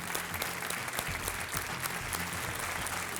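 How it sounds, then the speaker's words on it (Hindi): Studio audience on a televised quiz show claps steadily to welcome a contestant, a dense continuous wash of applause with no voices over it. "आइए, तालियों के साथ इनका स्वागत।"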